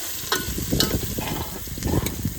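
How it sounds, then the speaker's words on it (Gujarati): Sliced onions fry in a pan for a pomfret curry, giving a soft sizzle with a few quick stirring scrapes and clinks, close by and with no talking. "તો ભાઈ ડુંગળી પકાવવી પડે."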